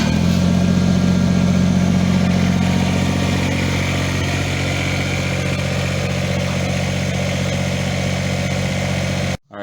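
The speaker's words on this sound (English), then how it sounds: "tractor starts good now." A Kubota BX2350 tractor engine runs steadily after starting, a loud, close, even idle with a low droning hum that continues unbroken until it cuts off abruptly at the end.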